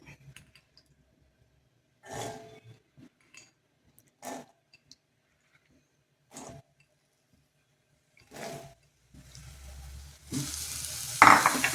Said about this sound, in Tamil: அதில் சுண்டைக்காய் போட்டு வதக்கிறது.